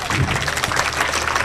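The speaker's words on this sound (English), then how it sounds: "Again clap for Haider Sultan." Audience applause for a speech competitor at a school speech competition, a short steady burst of clapping filling the hall with a voice faintly mixed in.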